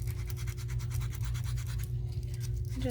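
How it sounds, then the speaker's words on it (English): Sandpaper rubs along the edges of a leather Birkenstock sandal strap in a steady, quick back-and-forth scratching, faint and close over a constant low hum. "I'm using the edge of my sandpaper, and I'm going to get the edges here."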